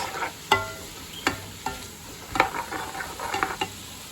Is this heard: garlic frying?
yes